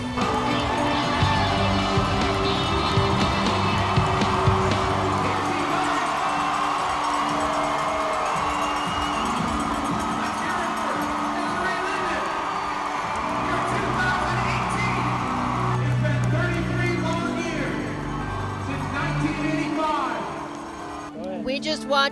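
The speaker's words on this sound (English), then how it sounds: "You can hear the crowd in back of me." Crowd along the Boston Marathon finish line in wet, rough weather keeps up a dense, continuous roar of cheering and whoops, steady and loud throughout, with passing traffic and scattered shouts mixed into the wash.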